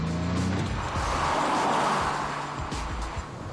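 A DeLorean car drives and accelerates in a steady, loud rush of engine and road noise that runs without a break and eases slightly toward the end.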